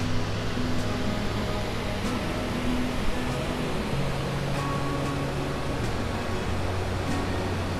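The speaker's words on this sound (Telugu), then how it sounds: "ఇక్కడ మనకు ఓన్లీ ఆ వాటర్ సౌండ్" Rushing water at Bogatha Waterfalls in forested hills, a dense steady roar that stays constant and fairly loud with no voices.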